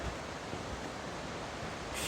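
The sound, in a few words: Rupi Raila waterfall rushing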